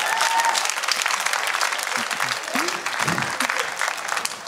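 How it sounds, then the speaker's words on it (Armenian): A room of students applauds Kirakosyan at an X-Factor gathering: sustained, bright clapping from many hands, fairly close and even, with a few voices speaking over it partway through. "Ընկեր Կիրակոսյանին ծափարենք երեխաներ։"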